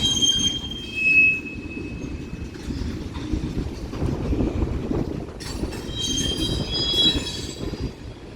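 A mixed freight train with CSX and Norfolk Southern locomotives rolls past at Central Avenue, giving a steady, loud rumble of wheels on rail with high metallic wheel squeal rising and falling throughout.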